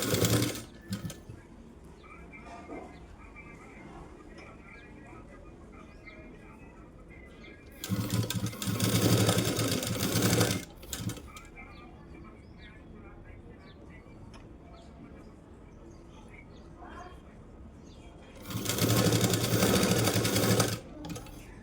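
A sewing machine runs in two steady bursts of a few seconds each, stitching piping onto a puff sleeve. Between the bursts there are quieter stretches with soft handling noise and talk.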